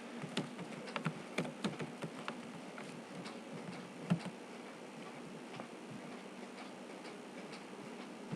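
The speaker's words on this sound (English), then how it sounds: "I'm typing my password" A password being typed on a computer keyboard comes through as quiet, irregular key taps in short bursts, soft and close against a low background hum.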